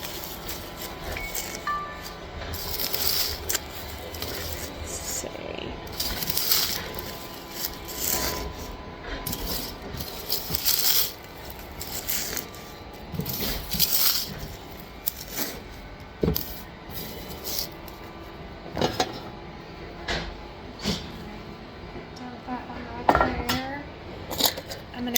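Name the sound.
crushing freeze-dried marshmallows into a jar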